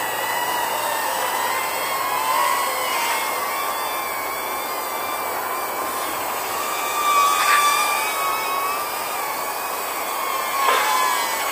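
A small Eachine X73S Jumper drone flies and flips, giving a steady high-pitched whine with brief louder surges as it maneuvers, heard alone at moderate level.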